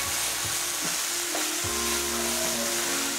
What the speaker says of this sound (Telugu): పుదీనా నూనెలో ఎక్కువ సేపు వేయించాలి, లేకపోతే చేదుగా ఉంటుంది.